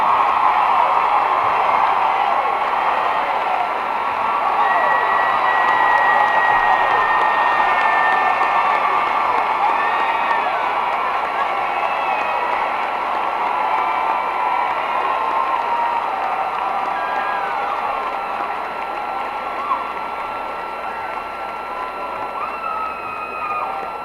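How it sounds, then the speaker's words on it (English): A large commencement crowd at a spring graduation ceremony applauds and cheers, a long, steady roar of clapping mixed with whoops and shouts that stays dense and loud before easing slightly toward the end. "Let's give him a round of applause."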